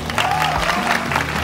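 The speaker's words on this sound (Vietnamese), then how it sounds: "Nói thiệt quý vị ơi, vỗ tay." A studio audience on a Vietnamese TV talk show bursts into brief applause, heard with a sustained musical tone running underneath.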